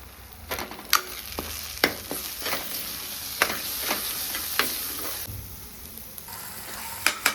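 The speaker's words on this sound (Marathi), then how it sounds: "मसाला टाकून छान असा मसाला परतून घेऊया" Masala, including Malvani masala, fries in a pan for a village-style prawn and potato curry, giving a steady close sizzle broken by sharp, irregular scrapes and clinks of a spoon stirring, with no talking.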